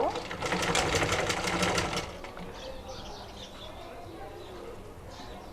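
A sewing machine runs in a fast, close burst while stitching the shoulder joint of a blouse, then stops, leaving quiet room noise and light handling of fabric.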